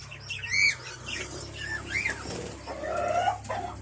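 African lovebirds, split blue and opaline varieties, chirping in an aviary, sharp squeaky calls in irregular bursts close by over a low background hum.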